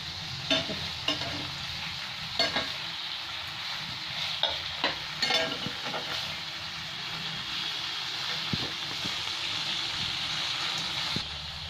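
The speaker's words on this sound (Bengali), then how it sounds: "এবার মাছটাকে হালকা হালকা করে উল্টে দিলাম।" Pabda fish fries in oil in a pan with a steady moderate sizzle. Scattered spatula taps and scrapes come as the pieces are gently turned over, with no one speaking.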